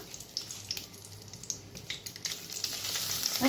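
Bay leaves and dried chillies sizzle faintly in hot oil as a tempering for a potato and pointed gourd curry, with soft crackles and small pops scattered through the light frying hiss.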